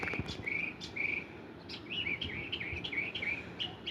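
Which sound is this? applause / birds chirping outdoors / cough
birds chirping outdoors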